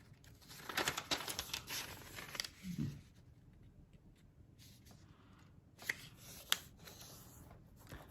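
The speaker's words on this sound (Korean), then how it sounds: "반을 접은 표시에 따라서 다시 안쪽으로 반반씩 접어줍니다" Colored paper being folded by hand, with soft crinkling and rustling close by, denser early on, then quieter with a couple of crisp creases near the end.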